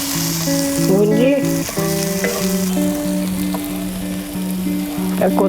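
Paneer for bhurji fries in a pan with a loud, continuous sizzle and occasional stirring, while steady tonal music plays underneath.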